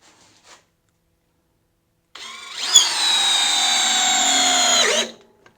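A DeWalt DCD778 hammer drill drives a 6-inch headlock fastener into timber, a steady whining motor run of about three seconds that stops abruptly, following near silence and a faint tap.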